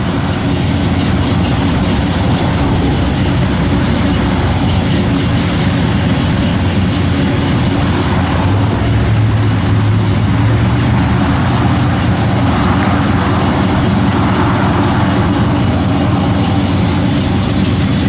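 A 1956 Chevrolet Bel Air two-door post with a 355 V8 and a performance cam idles steadily, a loud, continuous low rumble with a slight lope, heard close up and alone for the whole stretch.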